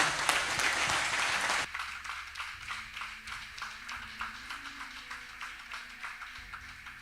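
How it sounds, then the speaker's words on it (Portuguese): A church congregation applauds in praise of the Lord at the close of a sermon, a dense burst of many hands that quickly thins into scattered, fading claps. "Você pode aplaudir bem forte o nome do Senhor?"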